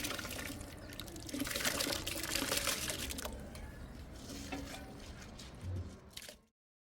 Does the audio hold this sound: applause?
no